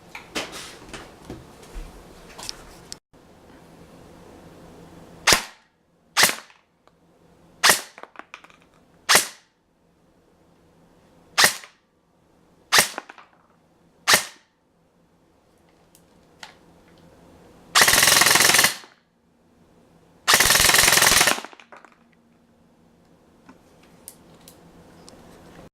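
An ICS M4 Sportline airsoft gun, running on a mini LiPo battery, fires 0.2 gram BBs: eight sharp single shots spaced about a second apart, then two loud sustained full-auto bursts, close and clear with no talking.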